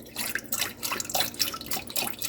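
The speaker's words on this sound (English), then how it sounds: "I'm going to add some of my veggie broth," Veggie broth is poured into a sauce in a home kitchen, making a short, close, gurgling and splashing trickle of liquid.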